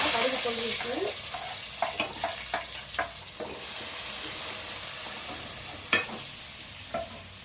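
Mustard seeds frying in hot oil for sambar, a continuous hiss and sizzle in a pan with scattered sharp pops and crackles as the seeds burst, close and steady with no talking.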